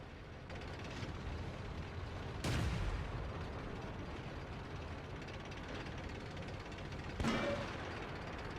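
In World of Tanks, a Jagdpanther tank destroyer's gun fires, and the shell strikes the player's tank turret mantlet. Two sharp, booming impacts land several seconds apart over a steady low engine rumble.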